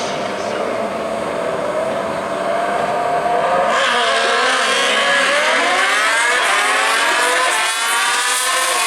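Drag racing motorcycles, a 1000cc bike against a 1400cc bike, launching at a raceway: a loud, sustained engine roar that rises in pitch through the gears and stays intense and continuous across the run.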